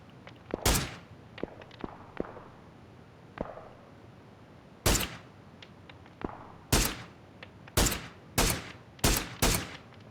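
PUBG gunfire rings out as sharp single shots, scattered at first and then a rapid series of loud, evenly spaced cracks near the end, each with a short tail, over faint ambient background.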